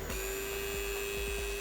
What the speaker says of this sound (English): What you're hearing is the clutch in action.